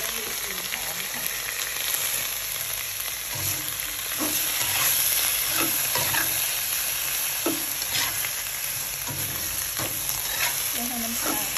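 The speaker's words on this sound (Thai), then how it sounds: "เราเอาน้ำปลาหยอดข้างๆกระทะนะคะ" Steady sizzling and frying as fish sauce is drizzled down the side of a hot pan, with occasional stirring scrapes and soft clinks over a constant hiss.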